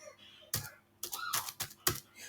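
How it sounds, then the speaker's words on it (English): Sparse clicks of typing on a computer keyboard, a few separate keystrokes and short clusters heard close and fairly quiet, with no talking. "I'll go ahead and type in the word"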